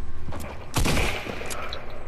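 Gunfire in the video game Fortnite, a loud burst of rapid shots about a second long, with fainter shots before and after.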